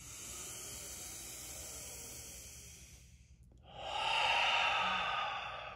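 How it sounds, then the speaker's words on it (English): A slow, deep yoga breath is drawn in with a soft airy hiss, followed by a brief pause and then a fuller, louder exhale through an open mouth, close and quiet with no talk. "Open mouth, exhale. Fill especially your belly with air."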